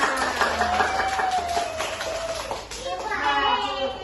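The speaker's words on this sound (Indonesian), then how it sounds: "Oke, tepuk tangan untuk kita semua" Children clap hands in a classroom lesson on Islamic places of worship, a brief patter of small hands running under a voice and chatter that carries across the room throughout.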